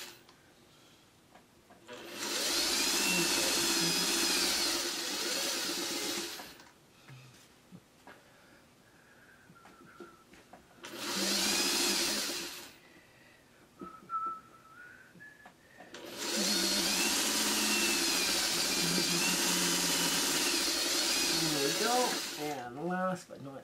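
A sewing machine stitches traditional quilt blocks with a fresh bobbin in three loud, steady runs of whirring, with short pauses between them where a person talks briefly.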